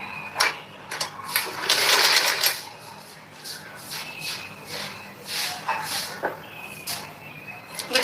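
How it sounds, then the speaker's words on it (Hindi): Stitching on blouse fabric, with a sewing machine running in short bursts among rustling and handling of cloth, close by and moderately loud, with no voice over it. "इस पे हमें बराबर करके बिल्कुल सिलाई लगा लेनी है"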